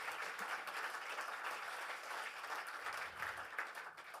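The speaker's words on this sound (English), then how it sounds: "So let's just give a round of applause to happy birthday," Steady audience applause at an Irish traditional music event in St. Paul celebrating twenty years of the tradition, an even, moderately distant wash of clapping from a sizable crowd that eases slightly toward the end.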